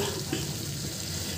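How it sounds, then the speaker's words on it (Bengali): A little water is poured into a cooking pan already holding fried potatoes and eggs, a brief, soft, faint splashing pour lasting barely a moment. "এখন অল্প একটু পানি দিয়ে দেব।"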